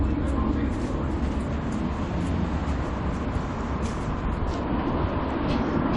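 A tram rolls along a city street in Sheffield, its steady, loud rumble and rattle filling the scene without a break.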